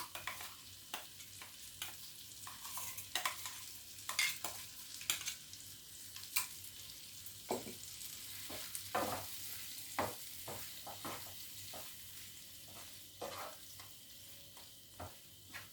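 Ground masala paste fries in hot oil for an egg do pyaza while a spatula stirs it, making a soft continuous sizzle broken by frequent scraping taps against the pan, with no talking.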